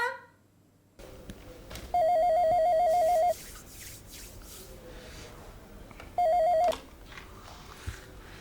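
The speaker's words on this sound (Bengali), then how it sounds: "ফোনটা কেউ ধরছে না কেন?" A telephone rings in two bursts of electronic trilling, the first longer than the second, with quiet room noise and faint shuffling between.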